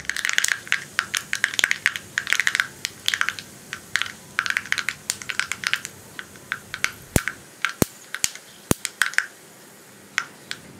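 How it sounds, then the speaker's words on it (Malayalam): Mustard seeds pop and crackle in hot coconut oil in a pan, with dense, sharp, irregular snaps that thin out into a few louder isolated pops near the end. No one speaks. "ഇപ്പോൾ നമ്മുടെ കടുക് പൊട്ടിക്കൊണ്ടിരിക്കുന്നുണ്ട്."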